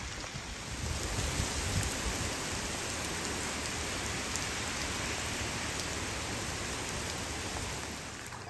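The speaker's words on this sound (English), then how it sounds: "More rain, just what we needed." Steady rain from Hurricane Idalia on Florida's Gulf Coast pours down over a flooded street with a dense, even hiss and patters onto surfaces. It is moderately loud and continuous, with no voices.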